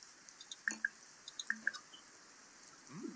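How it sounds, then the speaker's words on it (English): Bubbles in The Sims 4 video game make a handful of small, wet popping drips, spaced irregularly and fairly quiet, standing alone without any voices. "You can hear the bubbles, Clem."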